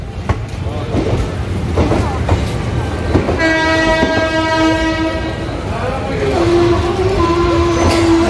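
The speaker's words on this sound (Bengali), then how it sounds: "ঠিক 11টা 56 মিনিটে ট্রেনটি আবার ব্যান্ডেল থেকে চলতে শুরু করলো।" An Intercity Express pulling out of Bandel Junction, a loud rumbling train with a long two-tone horn blast midway, steady wheel and carriage noise continuing underneath, heard close.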